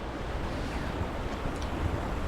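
River water rushing steadily nearby, a broad continuous wash of flowing water with some wind buffeting on the microphone, no voices.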